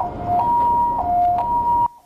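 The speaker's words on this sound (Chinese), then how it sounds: "救护车抵达现场，将受伤的男骑士送医急救。" A wailing two-tone ambulance siren alternates steadily up close and loud at a road crash scene where an injured motorcyclist lies, with traffic noise underneath until it stops.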